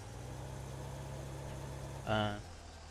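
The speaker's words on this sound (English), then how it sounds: "So we'll fire up the Unimog." A Unimog idles with a steady low engine hum in a farming simulator game, and a brief louder revving surge rises near the end before settling back to the idle.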